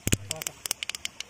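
Bay leaf and whole mustard seeds hitting hot oil in a village kitchen, giving a close burst of sharp, irregular crackles and pops that thin out into scattered snaps.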